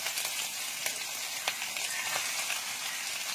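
Green chillies, whole cumin and dried chillies fry in hot oil for poha, giving a soft, steady sizzle with scattered sharp crackles and pops.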